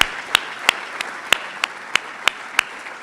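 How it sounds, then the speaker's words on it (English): Sparse, thin applause at a business awards luncheon, with scattered hand claps over a soft wash of clapping and a few sharp, regularly spaced louder claps standing out nearby. "all of that deserves a round of applause"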